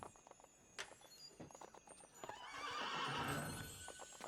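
A horse in the video game Assassin's Creed 2 neighs loudly in a long, shaky whinny near the end, after scattered footsteps and clopping clicks.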